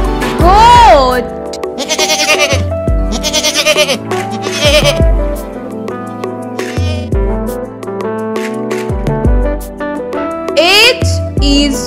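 A goat bleats several times in a children's alphabet song, with loud wavering calls set against bright music and sung narration.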